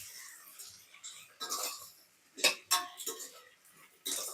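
A utensil stirring sliced onions with salt in a pan, a handful of scattered scraping and clinking strokes with quiet gaps between them, close up and fairly soft.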